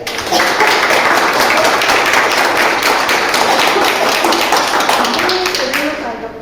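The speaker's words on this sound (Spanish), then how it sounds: "Un aplauso para él." Sustained applause from an audience at an academic seminar, a steady wash of many hands clapping for about six seconds before trailing off.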